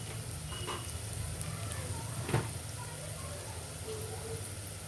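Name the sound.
spinach and spices frying in a pan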